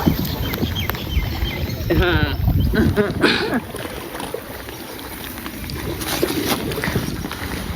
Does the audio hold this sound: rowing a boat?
yes